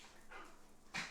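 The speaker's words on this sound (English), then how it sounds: "those are dogs" Dogs bark once, briefly and fairly near, at the very end of a short stretch of quiet room background.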